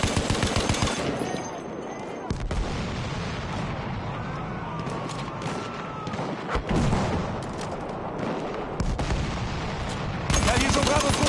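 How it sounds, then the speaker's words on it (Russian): Enemy machine gun fire in the World War I shooter Battlefield 1, sustained rapid bursts amid a dense, loud battlefield din of explosions and other gunfire, with voices calling out in places. "Вражеский пулемет!"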